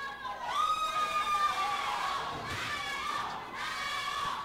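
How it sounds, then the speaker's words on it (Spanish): Crowd at a lucha libre wrestling show shouting and cheering together, loud chant-like swells rising twice over general arena noise. "El grito de apoyo para Taro Junior"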